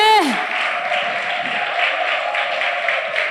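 Outdoor concert crowd applauding and cheering for a reggae artist at a summer open-air show, a sustained wash of clapping after a brief tonal sound at the start, with a faint voice in the mix.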